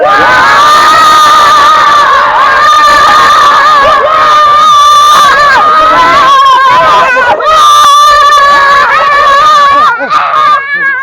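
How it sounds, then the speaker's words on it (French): Children's voices shouting and cheering together near a phone recording at a Bagneux football ground, a loud continuous group yell with screams and babble throughout, briefly dipping then rising again. "On crie tous devant la caméra là."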